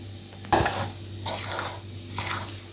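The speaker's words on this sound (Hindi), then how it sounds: "आधा पहले डाल दूंगी और इसको मिक्स करेंगे" Coconut cake batter is mixed in a bowl, with liquid ingredients stirred into dry ones: a sharp clink of a utensil against the bowl, then soft, quiet scraping strokes.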